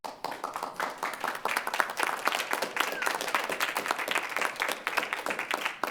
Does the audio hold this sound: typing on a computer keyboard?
no